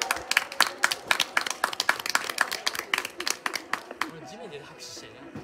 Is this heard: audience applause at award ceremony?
yes